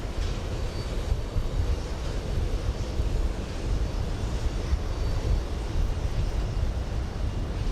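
KLM airliner taking off from runway 13 right at JFK on a windy day: a steady, loud broadband jet roar that holds throughout, with gusting wind rumble mixed in and no voices.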